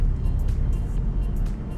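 A 2019 Porsche Cayman GTS with a manual gearbox drives along, its engine and road rumble holding a steady, continuous drone from close inside the car, with no voices over it.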